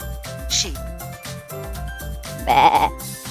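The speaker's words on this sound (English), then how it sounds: "Sheep." A sheep gives a single loud, wavering bleat near the end, set against light rhythmic music.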